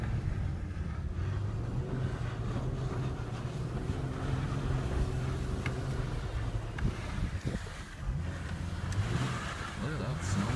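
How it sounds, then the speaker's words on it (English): Dodge Charger doing power spins in a snowy yard: a steady, loud engine drone with low rumble and wind noise running throughout, tires churning snow, with some voices mixed in. "You can actually do power spins right in the yard."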